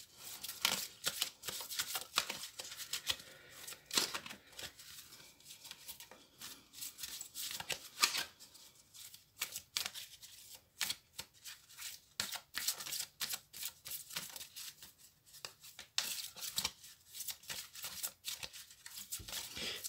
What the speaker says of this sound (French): effectuer maintenant le tirage avec les cartes de l'oracle message de vos anges